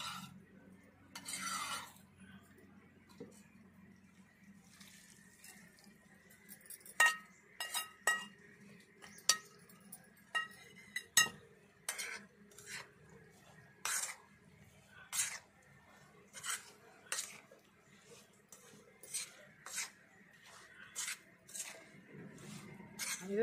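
Cooled oil stirred in a metal pot and poured into amla pickle, small spoon clinks and scrapes tapping irregularly against the vessel, faint and close, with someone talking quietly at moments.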